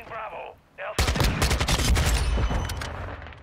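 Rapid bursts of automatic gunfire in the Modern Warfare 2 video game, loud and dense shots crackling continuously for a couple of seconds after a brief spoken remark.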